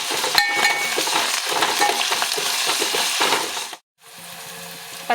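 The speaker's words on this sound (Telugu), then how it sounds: "పచ్చిమిర్చి, ఆనియన్స్ ఇలా ఫ్రై అయ్యాక కొద్దిగా పసుపు వేసుకోవాలి." Green chilies and onions fry with ginger-garlic paste in a pan for a drumstick tomato curry, a steady close sizzle with scraping stirs and clinks, briefly cutting out then resuming more quietly.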